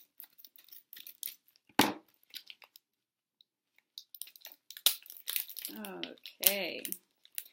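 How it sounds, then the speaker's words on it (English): Scissors snipping and crinkling open plastic packaging for a keto snack box, quiet scattered cuts and rustles with a sharper snap, close and sparse. "Scissors."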